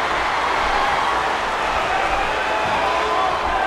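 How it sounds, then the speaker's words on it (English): A wrestling arena crowd in the video game WWE'13 roars in a steady, loud wash of cheering noise that holds evenly throughout. "Would you listen to this crowd show their appreciation for these amazing competitors?"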